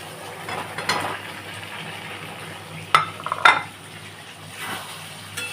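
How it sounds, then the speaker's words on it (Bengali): Fried pointed gourd pieces added into spices fried in oil in a pan: a soft steady sizzle with a couple of sharp metallic knocks of a utensil on the pan near the middle, no talking. "এর মধ্যে এবারে আমি এই পটল ভাজাগুলো দিয়ে দিচ্ছি"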